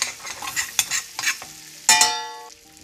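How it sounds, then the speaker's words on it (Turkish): A spoon scrapes the bottom of a frying pan while a garlic Greek meze cooks, with several quick scrapes followed by a sharper metallic scrape that rings out and slowly fades. "Bakın tavanın dibini kazıyorum."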